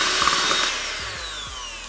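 Brownie batter for Kinder Bueno brownies is whisked until light and foamy, a loud, close whirring scrape with rhythmic strokes repeating every half second or so, with no talking.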